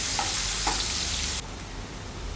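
Ginger and garlic, both cut into long strips, sauté in a hot pan with a loud, dense sizzle that suddenly drops to a softer hiss partway through.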